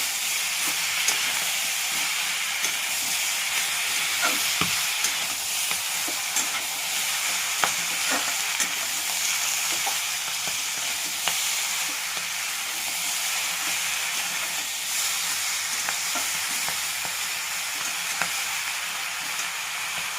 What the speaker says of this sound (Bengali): পুঁই শাকগুলো দিয়ে দিয়েছি। এবার ভালো করে কষে নেব।